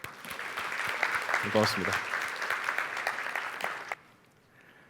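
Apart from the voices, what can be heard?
audience applause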